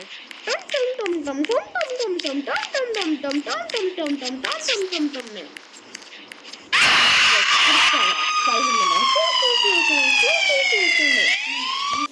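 A wailing video game siren in a prison horror game cycles up and down continuously, then a burst of noise gives way to a higher steady siren tone, with a voice talking over it.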